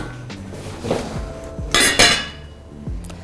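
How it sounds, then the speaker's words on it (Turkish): A spoon scrapes and clinks against a metal pot of cooking biryani rice, then a lid clatters down with a couple of sharp metallic knocks, close and clear. "Şimdi son kez bir karıştırıp ağzını kapatıyoruz."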